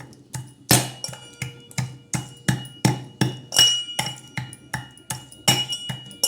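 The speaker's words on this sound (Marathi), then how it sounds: "इलायची ठेसून घेणार आहोत ह्या गल्लासमध्ये मी ठेसून घेते" Cardamom pods pounded inside a glass, a steady series of sharp knocks repeating roughly every half second, close and fairly loud with a ringing glassy edge and no talking.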